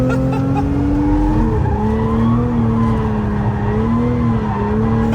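A car skids hard through a chicane, its engine droning loudly with shifting pitch as the tires squeal, heard close up and continuous.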